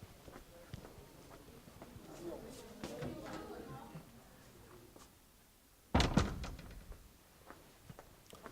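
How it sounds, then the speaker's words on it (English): In a lecture room, a door shuts with a sharp thud, preceded by scattered footsteps and handling noises and followed by a short rattle as it settles. "Maybe I just close the door."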